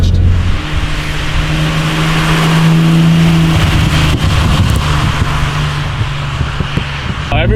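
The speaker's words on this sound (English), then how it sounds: "the noise underneath the floorboard? That's my quality exhaust that runs through the steering column." Exhaust and engine noise from an old VW fitted with an Audi S4 engine fills the cabin, a loud rumbling drone with rattles and a shifting pitch midway.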